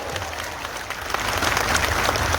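Crowd at a Hindu political rally breaking into applause, clapping that builds and swells louder partway through and keeps going.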